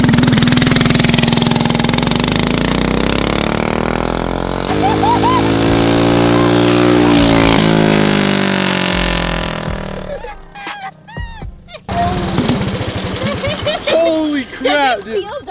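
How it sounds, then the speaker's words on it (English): A go-kart engine runs loud and near, revving up and down in long rising and falling sweeps, then drops to choppy idling bursts as people talk and shout over it. "I'm so glad we bought real go-karts."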